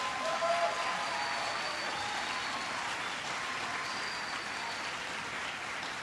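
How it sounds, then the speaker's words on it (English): Applause from an audience in a hall in Madison, Wisconsin during a presidential education speech, a faint, distant, even wash of clapping that continues steadily. "give them all a big round of applause"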